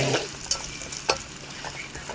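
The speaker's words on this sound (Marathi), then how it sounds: "कांदा बटाटे टाकले. आता हलवू राहिलो." Onions and potatoes sizzle softly in a pan for khichdi while a spoon stirs them, giving a few light scraping knocks over a low, steady frying hiss.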